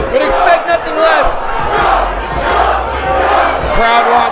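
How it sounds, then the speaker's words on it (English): A wrestling crowd at an indoor show cheers and yells loudly, a sustained roar of many voices that swells and dips in waves, with individual shouts rising above it. "Crowd wants Anton to jump."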